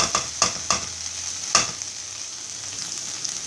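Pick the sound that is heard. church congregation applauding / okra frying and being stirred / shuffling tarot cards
okra frying and being stirred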